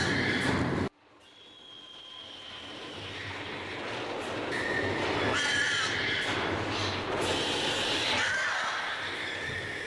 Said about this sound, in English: These long screams are typical of pigs which have lost their ability to stand.